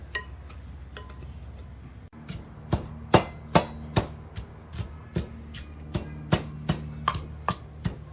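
Fermented mud fish (prahok) with bones is pounded in a bowl, with a short pause and then a steady run of roughly fifteen firm, close, hollow thuds in a regular rhythm and no talk.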